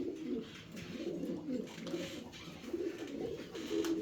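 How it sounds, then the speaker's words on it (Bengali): Fancy pigeons at a farm coo in soft, continuous low throaty bursts, several birds overlapping at moderate distance against a quiet background. "এটা কি কবুতর এটা দেখাই দিয়েছেন?"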